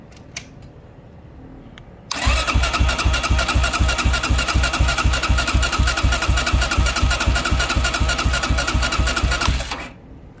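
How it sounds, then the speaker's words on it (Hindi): A motorcycle cranks on its electric self-starter, powered by a lithium LiFePO4 battery pack, making a loud, steady, rapid chugging that runs for about eight seconds without catching and then stops abruptly. "अब मैं इसको सेल्फ दे रहा हूँ"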